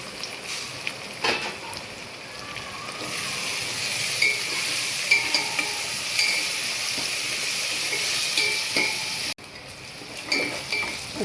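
Onions, ginger and garlic sizzling golden in a pot for biryani, with mint and coriander going in, a steady frying hiss broken by occasional clinks and stirring knocks close by.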